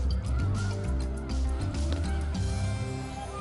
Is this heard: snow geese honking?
yes